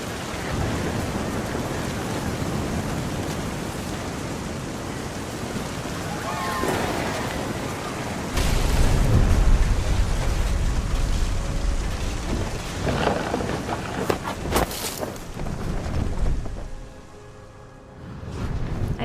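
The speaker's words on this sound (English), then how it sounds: "The thunder sounded much too close and full of angry power" Heavy rain pours steadily in the What Remains of Edith Finch game while deep thunder rumbles and cracks loudly midway, fading into softer rainfall at the end.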